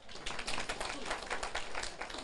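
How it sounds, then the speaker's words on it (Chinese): An audience at a Taiwanese political lecture claps in a soft, dense patter that stays fairly even and somewhat distant for a couple of seconds. "你们拍手呀"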